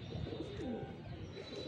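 On a house roof, a male pigeon gives low, repeated coos, fairly close and steady, alone without voices.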